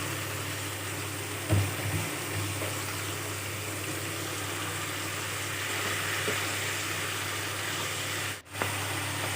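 Duck meat hitting onions already fried in a pan, giving a steady close sizzle and hiss throughout, with a few brief clatters early on and a short dip near the end.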